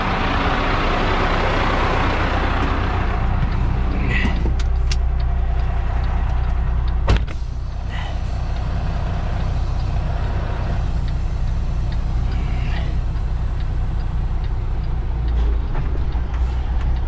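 A heavy truck pulls forward after dropping its trailer, a loud steady engine rumble running throughout with a sharp air-brake-like burst near the middle and no talk.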